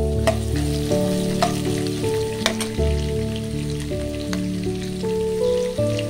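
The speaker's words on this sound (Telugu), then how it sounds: "దాంట్లోనే 2 పచ్చిమిర్చి చిన్నగా కట్ చేసుకుని ఇలా వేసుకోవాలి" Chopped green chillies hit hot oil with ginger for vegetable upma, giving a crackling, rain-like sizzle over a low steady hum, with a few sharp spatter pops and clicks scattered through and no talking.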